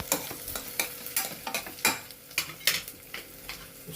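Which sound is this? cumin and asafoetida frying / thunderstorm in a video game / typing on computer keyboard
cumin and asafoetida frying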